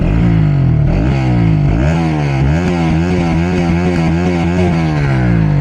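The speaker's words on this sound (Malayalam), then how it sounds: "അപ്പോൾ ഇതിൻ്റെ ഒരു എക്സോസ്റ്റ് നോട്ട് ഞാൻ ഗ്യാപ്പിച്ച് തരാം." A Bajaj Pulsar NS200 motorcycle with a piece of its silencer removed revs up loudly and close, its raw exhaust note rising and falling in repeated throttle blips over a steady idle rumble.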